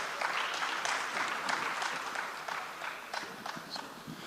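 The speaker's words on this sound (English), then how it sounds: "Please keep the applause going for His Excellency Sven Berre." Audience applause at a social impact summit conference, a steady dense clatter of many hands clapping, moderately loud and continuous, no talk.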